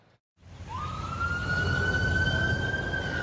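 Police sirens start up at Duluth City Hall for a law enforcement torch run, a rising wail that settles into a loud, sustained tone over a rumbling engine bed outdoors.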